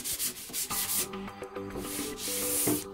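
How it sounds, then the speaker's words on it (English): Steady rasping scrape of sandpaper rubbing back and forth over varnished marine plywood, close and continuous, with a rhythmic texture and faint tonal ringing underneath. "when I'm finished sanding"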